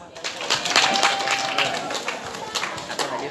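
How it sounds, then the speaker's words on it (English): Applause from a school audience at the final of an English debate competition, a dense wash of many hands clapping, steady and fairly loud throughout, with a faint voice or tone underneath. "Okay, give applause."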